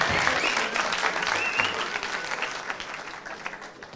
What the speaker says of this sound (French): Ils applaudissent à tour parce qu'ils l'ont tous quasiment.